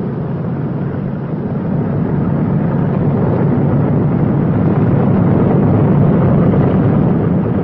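Big radial piston engines of a B-29 bomber taxiing on a runway, a loud, steady, low rumbling drone with a broad roar, continuous and close, with no voices.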